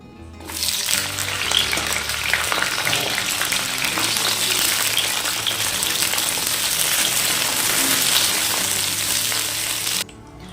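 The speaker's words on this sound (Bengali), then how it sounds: "সিমগুলো ভেজে নেব।" Flat beans frying in hot oil in a home kitchen, a steady dense sizzle running close and loud for about ten seconds before cutting off, with a faint low hum beneath.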